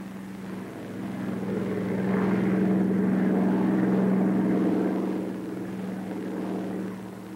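A Bell P-39 Airacobra fighter's engine runs at full throttle, a steady droning roar that swells and holds for several seconds before easing slightly, continuous and fairly loud with no voices.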